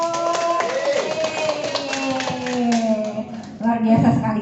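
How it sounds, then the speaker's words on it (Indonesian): A room of workshop participants at a teachers' training session claps for Pak Joko, a brief burst of scattered applause mixed with voices and chatter, swelling again near the end. "Tepuk tangan untuk Pak Joko."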